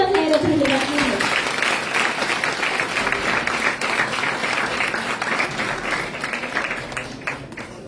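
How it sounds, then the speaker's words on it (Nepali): A church congregation at a Sunday service gives a sustained round of applause, many hands clapping together in a dense, even patter that carries on for several seconds and tapers slightly near the end. "हामी एकमुष्टमा उहाँहरूलाई ताली बजाएर धन्यवाद दिन्छौँ।"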